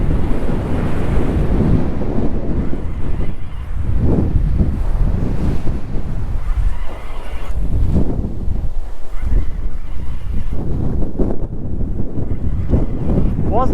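Strong gusty wind roars across the microphone at the sea shore while waves surge and wash in, a loud continuous rush rising and falling in gusts with no voices.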